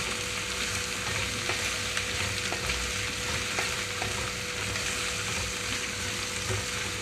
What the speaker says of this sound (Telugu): మూత పెట్టకుండా మధ్య మధ్యలో కదిలిస్తూ లో ఫ్లేమ్లో నుంచి మీడియం ఫ్లేమ్లోకి అడ్జస్ట్ చేసి వేయించుకుంటున్నాను